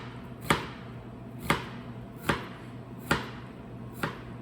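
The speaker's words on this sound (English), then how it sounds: "we're going to cut with the lines in the onion" A kitchen knife slices down through an onion onto a cutting board for soup prep: five crisp, evenly spaced chops about a second apart, close and clear with little else around them.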